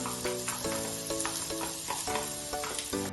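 Chopped onion, ginger, garlic and chili sauté in a pan for pasta, a steady bright sizzle broken by repeated scraping stirs at a regular pace, close up with no talking.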